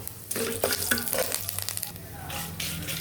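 Tempering of dried red chillies, garlic and curry leaves sizzling in oil in a pan for tamarind-leaf dal, a continuous crackling fry with scraping stirs, close and moderately loud.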